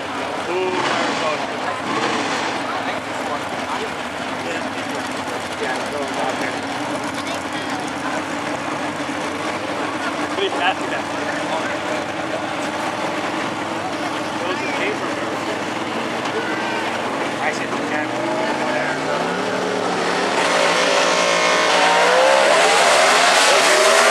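A Camaro and a dragster from Arizona race at a drag strip in Pomona, California, with a sustained loud engine roar that swells toward the end, under continuous announcer commentary.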